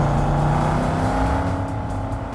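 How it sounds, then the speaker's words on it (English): Exhaust note of a Quadra Type 66 680 muscle car in Cyberpunk 2077, a loud, steady, low rumbling drone that holds evenly throughout with no voices over it. "what I consider the best exhaust note from the three production models"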